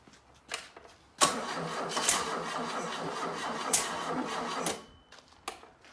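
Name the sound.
1974 VW Westfalia 1800 Type 4 engine running, popping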